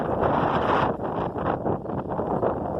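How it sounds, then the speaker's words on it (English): Steady wind roars and buffets the microphone throughout, a loud, continuous rushing noise with no talking. "oh my gosh, it's so windy this morning"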